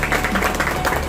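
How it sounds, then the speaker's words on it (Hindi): Applause in a warehouse gathering, a brief dense patter of many hands clapping at moderate level. "जोरदार ताली होना चाहिए"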